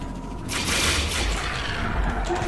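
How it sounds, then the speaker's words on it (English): A shotgun blast fires in a video game during a charity gaming marathon stream, heard as dense, loud, booming gunfire that fills the whole stretch with a burst of sound. "if you just tap it once, you get shotgun blast"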